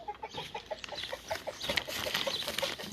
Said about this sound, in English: as you can see, I got a hurt duck